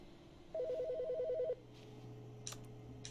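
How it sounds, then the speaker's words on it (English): A telephone rings once in the video game The Stanley Parable, a single steady electronic trill lasting about a second, followed by faint room tone and a small click. "Is the phone ringing?"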